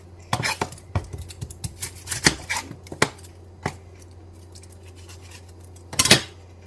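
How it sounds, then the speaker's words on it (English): Papery skin being peeled off a fairly large onion in a home kitchen, heard as a string of sharp crackles and knife-like clicks, busiest early on and then again in one loud rustling burst near the end, close and without talk. "Give it a peel."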